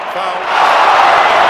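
Crowd noise from a London 2012 Olympics video game field event, a broad steady roar of spectators that swells and grows louder after the first half second and holds at full level.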